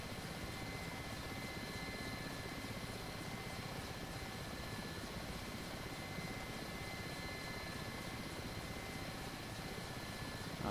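Steady rotor and turbine drone of an Mi-8 helicopter in the DCS flight simulator, a dense continuous broadband roar holding even in level flight with no voices.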